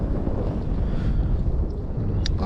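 Strong spring wind buffets the microphone with a low, constant rumble, close and loud, with faint water noise behind it, on the Pechora river.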